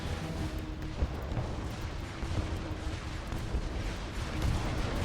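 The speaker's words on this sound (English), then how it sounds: "you see the artillery firing and so on" Artillery fire in the real-time strategy game Sanctuary: Shattered Sun, a dense ongoing barrage of thuds and booms blending into a continuous rumble of battle noise, with a few sharper hits standing out.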